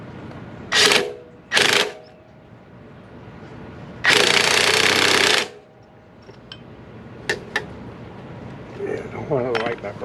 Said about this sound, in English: Let's see if we can get her tightened up.